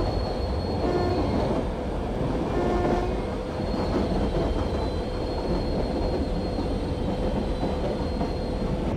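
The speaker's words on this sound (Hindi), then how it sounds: "तो अभी हम लोग स्पीड ट्रेन को ओवरटेक कर रहे हैं" The Karnataka Express, the 12628 Bangalore–New Delhi train, runs at speed while overtaking another train, giving a loud, steady, close rumble of wheels on rails with thin squealing tones drifting above it. No voices are heard.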